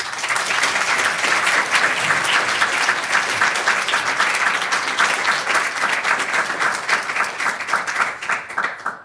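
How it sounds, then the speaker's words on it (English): Sustained applause from a conference audience for three panelists, thick and even clapping at full strength that tapers slightly near the end. "Can we continue the applause for all three of our panelists?"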